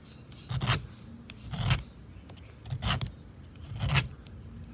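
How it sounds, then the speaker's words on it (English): Hand filing of silver with a metal file: four close rasping strokes at a slow, steady rhythm, each a short scrape separated by pauses, quiet and with no talk. "You're going to have to file as much as you can off."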